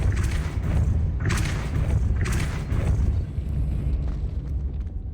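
A Depulso force spell is cast in the video game Hogwarts Legacy, giving deep booming thumps and whooshing bursts, two or three strong hits over a rumbling, loud game soundscape.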